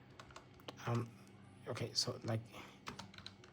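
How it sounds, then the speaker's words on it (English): Soft, irregular key taps from a computer keyboard typed with one hand, close by and fairly quiet, running under a person speaking. "I'm typing with one hand, that's why I can't be faster."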